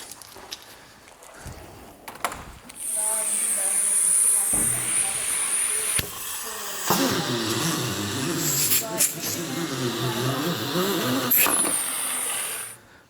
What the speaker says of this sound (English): Let me get the vacuum.